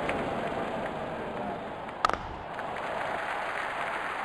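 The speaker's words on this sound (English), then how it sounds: "Crowd going mad here." A stadium crowd roars in the IPL 2020 cricket video game during a Rajasthan Royals versus Delhi Capitals match, a steady dense wash of cheering broken by one brief click midway.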